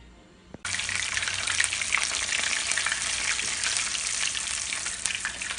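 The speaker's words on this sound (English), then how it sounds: "So I'm gonna go ahead and add these to the grease." Taco egg rolls dropped into hot grease, with a brief splash followed by a loud, steady crackling sizzle that continues unbroken and close by.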